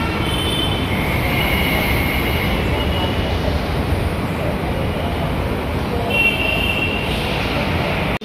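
A Mumbai metro train runs with a loud, steady rumble and high wheel squeal throughout, heard close from on board or beside the track without a break.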